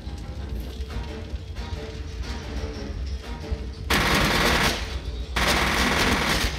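Heavy gunfire in the F.E.A.R. shooter game, sustained rapid bursts over a steady rumbling background, growing louder and denser in the final few seconds with a short break before resuming.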